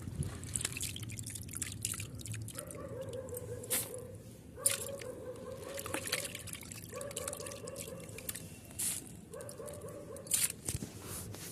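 Freshly washed wheat grains being scooped out of a water basin in a home kitchen, with water dripping and squishing off the wet grain in repeated bursts, close and fairly quiet, with no talk.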